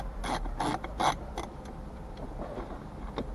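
A ratchet fitted with a socket tip clicks through a few quick bursts while backing out 7mm screws inside a Dodge Challenger, then tapers to faint scattered clicks, close and alone.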